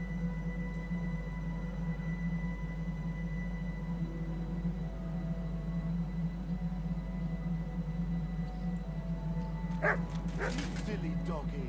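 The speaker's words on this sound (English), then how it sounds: "Silly doggy." In the medieval RPG Kingdom Come: Deliverance II, a dog gives a short burst of barks and yips near the end, set over a constant low hum and ambient game sound.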